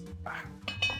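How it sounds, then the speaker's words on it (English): A kitchen knife being washed, with metallic clinks and scrapes against dishes and a short splash, close by and fairly quiet. "I need to wash my knife"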